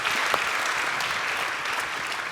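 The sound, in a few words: audience applause for Agnès Montaigne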